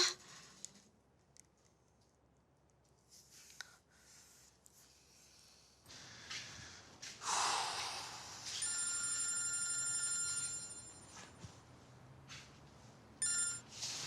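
A telephone rings in a tense Turkish TV drama scene, its repeated electronic ring tones pulsing in bursts over quiet room noise, preceded by soft breathing and shuffling.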